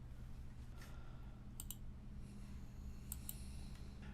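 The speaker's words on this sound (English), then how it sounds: "So I'm going to click that and add an image." Computer mouse clicks while adding an image in a DiviFlash Image Hover module for the Divi website builder: two quick pairs of faint, soft clicks over a low, steady room hum.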